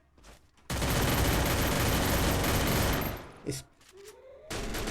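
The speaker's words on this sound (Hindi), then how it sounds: "इस बंदे को बहुत डैमेज दिया और M60 से फिनिश कर दिया।" Sustained loud burst of M60 machine-gun fire in the Free Fire video game, a dense continuous rattle lasting a few seconds, then a short pause and a further burst, with a brief spoken word at the start.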